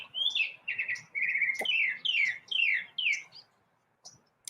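A small bird perched on a branch sings a lively series of clear chirps and whistled phrases, fairly close, in bursts with short pauses, ending with a few sparse calls after a quiet gap.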